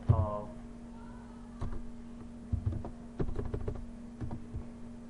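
Quiet keystrokes tap on a computer keyboard while a file name is typed, irregular clicks spread over a few seconds against a steady low hum.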